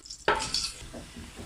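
Whole star anise, black peppercorns and cloves drop into a hot pan: a sudden sharp clatter and sizzle that fades into soft frying crackle.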